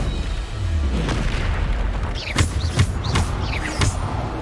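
The Bombarda spell goes off in the Hogwarts Legacy video game amid dense, noisy combat. Several sharp blasts and booms land in quick succession over a continuous rumbling background.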